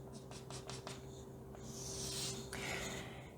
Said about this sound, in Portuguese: Que eu vou desenhar aqui.